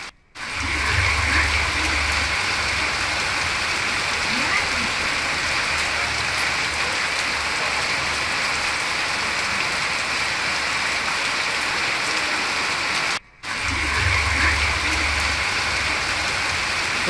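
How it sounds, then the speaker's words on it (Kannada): Heavy monsoon rain pours down in Hosanagara, Shivamogga district, a loud, continuous roaring hiss broken only by two brief cuts near the start and late on. "ಹೊಸನಗರದಲ್ಲಿ ಭಾರಿ ಮಳೆ ಮುಂದುವರೆದಿದ್ದು"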